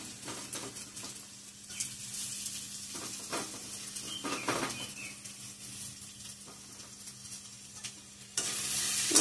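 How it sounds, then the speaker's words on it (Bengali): Potatoes frying in a pan, with a continuous sizzle close by and intermittent scraping and tapping as they are stirred, then a louder burst of hissing near the end; no talking. "এখন আমরা এটা আলু দিয়ে দিব।"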